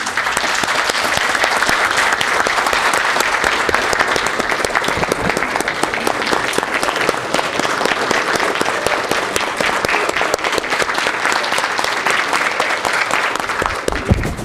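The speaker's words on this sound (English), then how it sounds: "we just applaud what you do" Sustained applause fills a city council meeting in Dublin, a dense, steady wash of many hands clapping at full strength for the whole stretch, with no speech heard over it.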